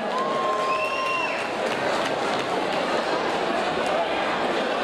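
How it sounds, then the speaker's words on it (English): At a fight club event, a crowd applauds and cheers for fighter Lewis Roberts in a loud, dense, continuous roar of clapping and shouts, with a voice speaking over it. "Let's give Lewis a round of applause once again."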